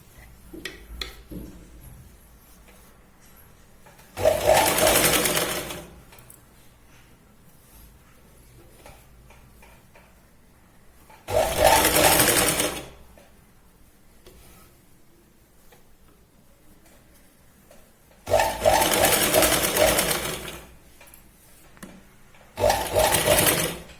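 Sewing machine running in four separate bursts while stitching a straight seam on a Punjabi dress, each run a steady whirring rattle lasting a second or two, with quiet pauses between them and no talk.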